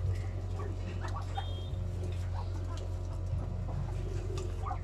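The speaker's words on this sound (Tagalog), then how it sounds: "Oh, manok." Chickens clucking at a small vegetable farm, their calls scattered over a steady low engine-like hum, with faint voices and occasional sharper bird calls in the background.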